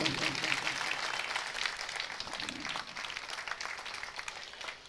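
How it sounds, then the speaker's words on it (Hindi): Audience applause at a mushaira poetry gathering welcoming a police inspector, a dense steady wash of many hands clapping at moderate distance, fading slightly toward the end. "सर, ये तो पब्लिक की जानिब से तालियां थी।"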